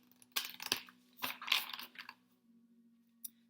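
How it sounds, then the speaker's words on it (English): An Ancestors and Angels Oracle card deck being shuffled by hand, giving a few close, crisp riffling bursts with short pauses between them and a faint final flick, alone without talk. "So we are currently shuffling, well I am, the Ancestors and Angels Oracle deck"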